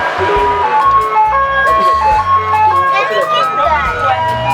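Ice cream truck chiming its tinny jingle melody loudly and up close, with engine rumble and voices mixed in around it.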